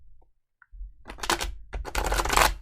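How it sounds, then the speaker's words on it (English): A deck of tarot cards is shuffled by hand. After a near-silent start with a couple of faint ticks, bursts of crisp riffling follow, with a short pause between two main flurries. "One more shuffle. One more shuffle."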